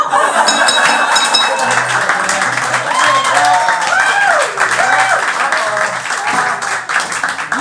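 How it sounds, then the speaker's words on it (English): Audience clapping and cheering at a live improv comedy show in St. Pete, a lively crowd din with scattered laughter, whoops and voices mixed throughout. "They were clapping"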